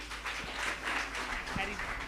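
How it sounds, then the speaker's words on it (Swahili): A church youth seminar audience gives continuous applause, a soft, fairly distant wash of clapping with a few louder thumps mixed in. "Tumpigie makofi."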